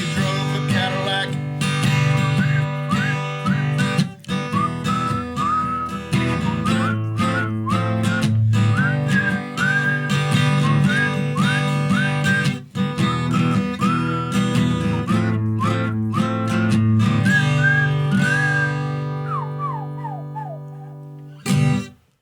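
A clear, pitched whistle carries the melody alongside string accompaniment in Appalachian folk music, its warbling phrases rising and falling steadily before the tune winds down and stops.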